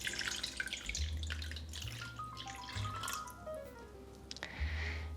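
Lukewarm water pours into a large mixing bowl for southern white bread dough, a close, steady trickling splash in several short bursts with brief pauses, no talking.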